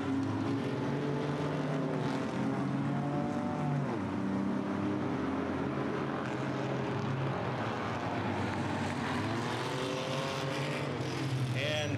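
Race cars in a heat race at Gullatta roar past on the track, a continuous dense engine drone with pitch sweeps as cars pass and fade, heard at moderate distance without talk.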